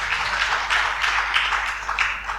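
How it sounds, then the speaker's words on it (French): A church congregation applauds during a Sunday service, a steady, dense wash of many hands clapping at moderate distance that holds evenly throughout with no voices standing out. "On applaudit pour Stéphane qui a fait un travail extraordinaire ce matin."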